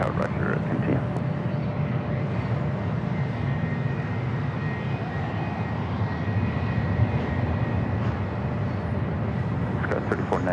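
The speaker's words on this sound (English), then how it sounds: "An exec jets next up for takeoff." A business jet takes off at San Diego airport, a steady, loud broadband roar holding for the whole stretch, with air traffic radio voices talking over it.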